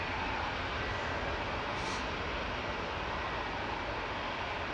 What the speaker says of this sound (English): touching down on 23 right. Flight 52, 9V SMU operating this, another A350 900